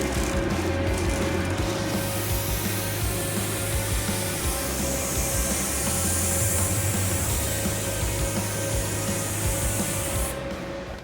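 Steady, loud spray-gun hiss of two wet coats of Summit Racing 2.1 VOC clear coat going onto a car part for a Honda Civic rally car, continuous for about ten seconds before cutting off.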